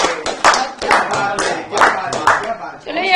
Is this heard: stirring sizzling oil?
no